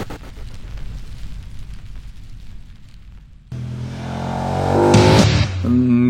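A KTM 1290 Super Duke R V-twin motorcycle starts with a low, rough rumble, then abruptly roars louder as it accelerates, its engine note climbing in pitch and intensity close to the microphone.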